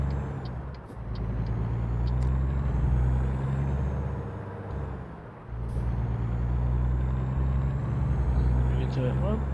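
Truck air brakes in American Truck Simulator hiss and release over a steady low diesel engine rumble, loud and close, with a brief dip in the engine noise midway. A voice talks over parts of it.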